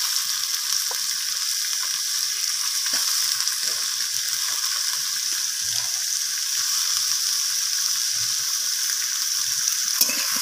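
Spinach stems, potato and radish frying with onion in a pan, giving a steady, close sizzle with scattered crackles and the scrape of a spatula stirring now and then, continuous throughout with no talking.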